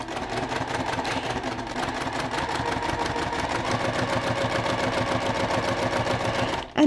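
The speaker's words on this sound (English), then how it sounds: "now I'm just going to start at the very beginning and sew along the edge there, removing the pins as I come up to them." Sewing machine running steadily, stitching along a pinned quilt edge with a 1/4 inch foot, its rapid even needle rhythm continuous and close before stopping abruptly near the end.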